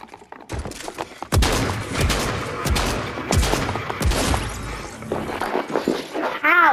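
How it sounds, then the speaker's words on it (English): Rapid bursts of SMG machine-gun fire in Fortnite, loud and close, with sharp cracks and a wall shattering, mixed with game effects over several seconds. "I know what that SMG is, and it's a machine gun"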